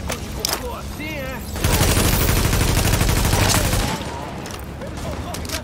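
Sustained automatic gunfire from the video game The Division rattles for a couple of seconds amid game sounds, with a voice talking around it.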